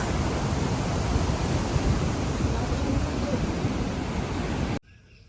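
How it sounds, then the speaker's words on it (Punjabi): The Sutlej river flows at the Hussainiwala border, heard as a steady, broad rushing wash that stays loud and even before cutting off abruptly near the end. "ਇਹ ਆ ਜੀ ਸਤਲੁਜ ਦਰਿਆ"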